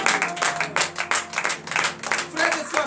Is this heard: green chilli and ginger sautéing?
no